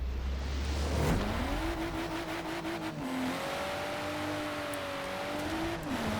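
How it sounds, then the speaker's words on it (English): A lightweight Lotus drag car in Forza Horizon 4 launches with a loud engine roar rising in pitch through gear changes, tires spinning and hissing underneath as it accelerates hard and close. "Absolutely loads of wheel spin"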